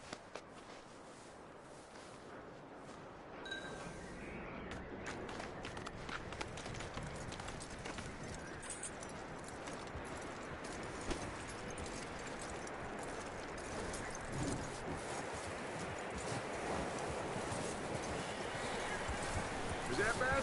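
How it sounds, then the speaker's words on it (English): Hooves clip-clop steadily in a PS4 video game, a continuous quick patter of hoofbeats under game ambience and intermittent voices talking throughout. "That looks like a decent horse."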